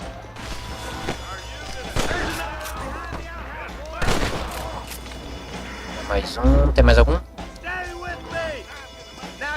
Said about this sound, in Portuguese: Alguns são 2 tiros, outros são 1 tiro pra matar.